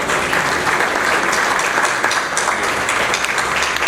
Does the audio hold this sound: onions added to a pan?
no